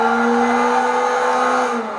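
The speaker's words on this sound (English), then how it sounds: "E-brake, steer in, throttle on." Non-turbo Nissan 240SX drift car in Gran Turismo 5, its engine droning at a steady high pitch with tire squeal layered over it, loud and continuous for about two seconds before easing slightly at the end.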